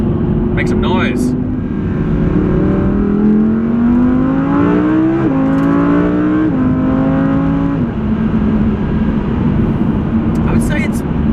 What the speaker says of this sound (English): let's go and find us some country roads, make some noise